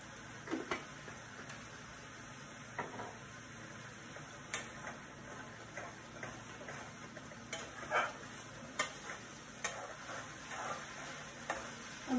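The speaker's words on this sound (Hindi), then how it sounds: "उसको अच्छे से भूनेंगे, नमक डाल देंगे" Masala frying in a pan for a Bengali-style curd fish curry, a quiet steady sizzle with scattered soft clicks and scrapes of a spoon stirring.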